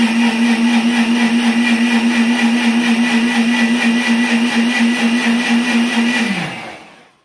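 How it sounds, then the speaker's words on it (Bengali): A 1100-watt electric blender with its jar lid sealed whirs through a batch of lassi, holding one loud, steady, close motor whine before spinning down and fading out at the end. "ব্লেন্ডারের জারের মুখটা ভালোভাবে আটকে দিয়ে ব্লেন্ড করে নিব মাত্র 20 সেকেন্ড সময়।"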